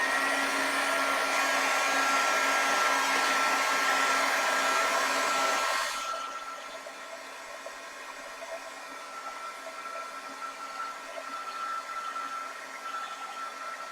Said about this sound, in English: I'm going to dry that